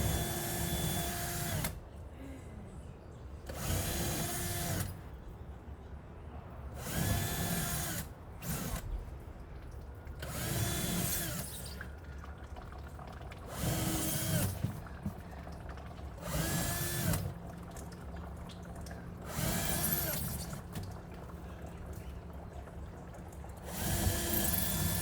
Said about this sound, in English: I am now going to drill small holes into the base to catch all the juice